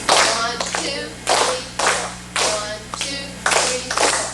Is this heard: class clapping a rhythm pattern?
yes